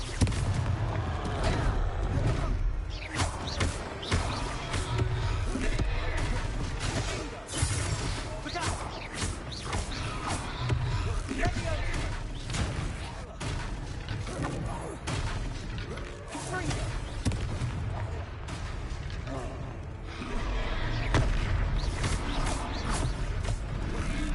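Confringo explosive spell cast during combat in the video game Hogwarts Legacy, dense blasts and crashes layered under continuous game music and voices, loud throughout.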